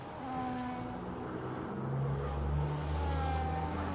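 Engines rev and drone as trucks drive past outside a house, a steady mid-distance rumble that swells louder toward the end, heard alone with no talking.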